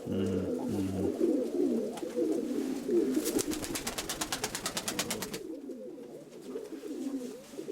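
Pigeons coo in low, repeated throaty calls close by, with a rapid flutter of wingbeats partway through and people murmuring faintly in the background.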